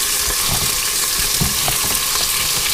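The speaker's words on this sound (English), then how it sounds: "We're just going to brown them up a little bit." Cubed groundhog meat browns in a pressure cooker, giving a steady close sizzle with scattered crackles and soft stirring knocks, no talking.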